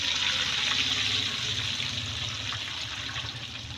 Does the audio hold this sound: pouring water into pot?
yes